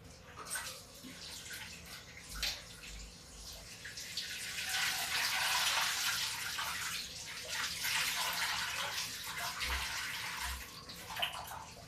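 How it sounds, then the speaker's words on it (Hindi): Bitter gourd being rinsed under running tap water in a home kitchen, a steady splashing flow that swells and continues for several seconds, close and fairly loud, with no talking. "इसको मैं धुल लेती हूँ।"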